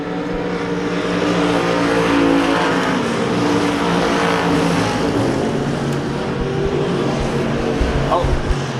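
Race cars roar down the front straightaway at Devil's Bowl Speedway, a dense, loud, continuous engine drone that swells as the pack passes close by, with the crowd and track ambience mixed in.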